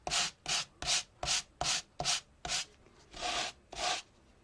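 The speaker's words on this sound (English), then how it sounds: "that's sanding it on the debossed side" Sandpaper rubs across embossed cardstock on the debossed side of a sunflower 3D embossing folder design, about ten short rhythmic scratchy strokes, close and fairly quiet, with no voices.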